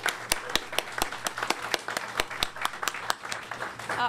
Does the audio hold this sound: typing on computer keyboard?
no